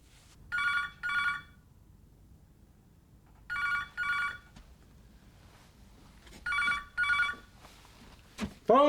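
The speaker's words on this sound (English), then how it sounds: "Phone, Rach." An old-style telephone rings in three double bursts, each pair of trills separated by a few seconds of quiet, fairly close and clear.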